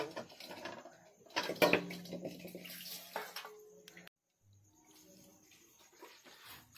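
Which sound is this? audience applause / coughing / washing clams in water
washing clams in water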